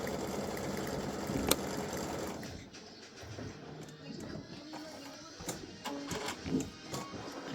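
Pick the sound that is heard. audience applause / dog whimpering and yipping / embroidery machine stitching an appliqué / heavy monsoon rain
embroidery machine stitching an appliqué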